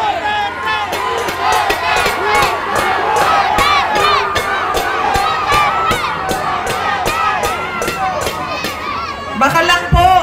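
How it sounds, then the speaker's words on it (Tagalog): A large crowd in the Quiapo area of Manila chants and shouts "Duterte" at a political gathering, a loud, dense roar of voices with rhythmic pulses of chanting and cheering throughout. "Ang sigaw ng mga tao ay Duterte."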